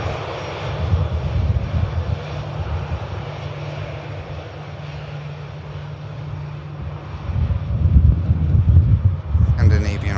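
A Scandinavian airliner on final approach at Manchester Airport gives a steady low engine roar that swells toward the end, with wind noise against the microphone and a voice talking over it.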